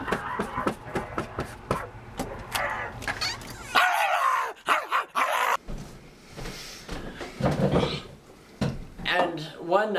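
A recorded dog barks behind a door: a series of yaps and barks, some whimpering, with a door-like clatter, mixed with people talking over it.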